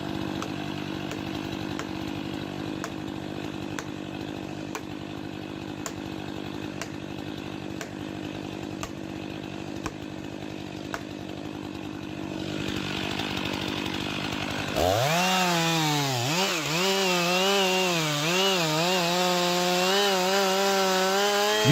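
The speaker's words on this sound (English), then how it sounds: "so it is important to follow proper safety instructions to ensure safe and effective use of the Stihl chainsaw." A Stihl chainsaw idles with a rhythmic two-stroke putter, then revs hard around fifteen seconds into a loud, wavering snarl as it bites into a big tree, close and continuous without voices.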